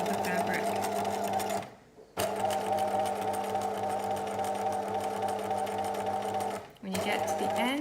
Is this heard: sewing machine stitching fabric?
yes